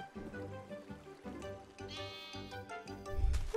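Goats bleating in a farming video game, several wavering cries over continuous game music with a faint trickle of water, no talk.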